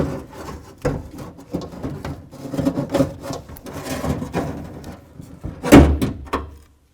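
Metal and plastic parts scrape and rub as a front window regulator is slid out of a Toyota Tundra door, with irregular clunks and a sharp knock near the end.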